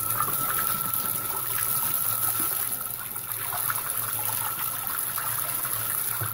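Tap water gushes steadily from a household faucet in southern Germany, a continuous close hiss and splash with no pauses.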